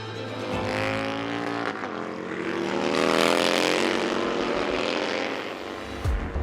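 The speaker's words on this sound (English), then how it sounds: "We're racing motorcycles." Racing motorcycles roar around Daytona International Speedway during a 2023 MotoAmerica event, Indian bikes among them, their engines a loud sustained howl that swells to a peak mid-pass and fades, with a rising pitch near the end.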